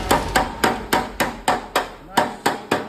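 A hammer striking metal while fixing cracks in a metal piece, about eleven sharp ringing blows in a steady, even rhythm, close and loud with no talking.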